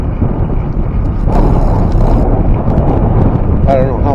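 Strong gusty spring wind buffets the microphone during a bike ride on a meadow trail, a constant low roar throughout, loud and close, with a brief faint voice near the end.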